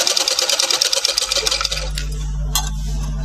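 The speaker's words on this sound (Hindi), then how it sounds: "ये साइड से हम साइड की सिलाई कर रहे हैं अभी हम" A sewing machine stitches a side seam on a garment in a tailoring lesson, a fast rhythmic clatter of needle strokes for about a second and a half, then stopping and leaving a low electric hum.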